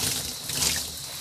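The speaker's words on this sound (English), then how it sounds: "Again, lukewarm water. We're just going to rinse her out." Lukewarm water trickles and splashes while a Cabbage Patch Kid doll is rinsed out in a bucket, a steady close pouring with no talk.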